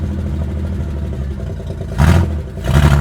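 Engine of an abandoned 1968 Impala with two flat tires running rough and clattering at idle, then two short louder bursts of revving and clunking as it is shifted into drive.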